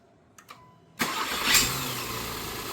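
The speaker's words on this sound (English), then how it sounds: "when your engine makes noise like this while starting, the squeezing noise" A 2016 Acura MDX V6 engine cranks and catches after a couple of faint clicks, settling into a steady idle with a high, thin squeal from a worn serpentine belt tensioner rising briefly at startup.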